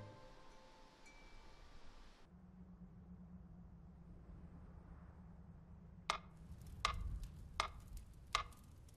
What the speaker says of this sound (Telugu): ఈ టికింగ్ శబ్దం వినపడుతుందిగా